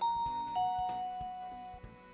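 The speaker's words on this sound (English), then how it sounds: "you can also use these chimes. Let me just try one. Chime 2, chime 3." A Dome Z-Wave leak detector siren plays a doorbell-like electronic chime, sustained ringing tones over a soft repeating pulse, fairly clear and close with no speech.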